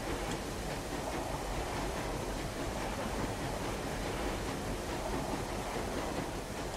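A German locomotive train in a video game rolls along steadily, a dense, even rumble with faint rail clatter, constant and fairly quiet with no voices.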